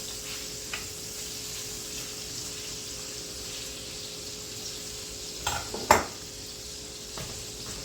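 Shrimp cook in a brandy cream sauce in a pan, giving a steady, even sizzle with a few clinks of utensil against the pan near the end.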